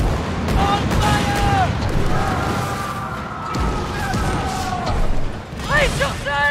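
Ship cannons firing in the Skull and Bones pirate game, heard as dense booming battle noise under steady loud play, with voices calling out over it.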